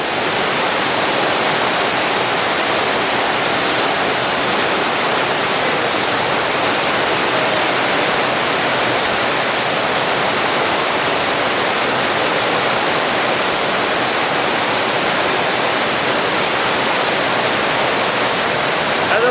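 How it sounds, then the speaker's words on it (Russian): A waterfall in Bulgaria roars steadily throughout, a loud, continuous rushing wash of water with no pauses and no voices. "это шумит водопад"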